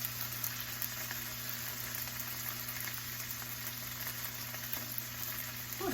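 Garlic and fresh rosemary sizzle steadily in a pan, a dense, even crackle of frying that holds at a constant level throughout with no voices.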